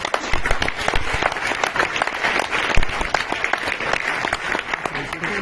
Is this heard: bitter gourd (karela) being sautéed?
no